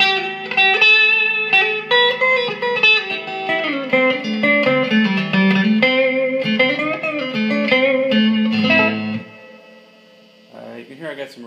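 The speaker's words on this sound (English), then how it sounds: "You can hear I got some reverb on the amp." A Squier Vintage Modified Jaguar electric guitar plays a melodic line through an amp with reverb, close and loud with ringing notes, then quiets near the end.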